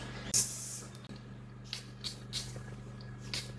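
A few short bursts of coconut vanilla orchid body spray hiss, the first one loudest, followed by several quicker, fainter spritzes over a low steady hum.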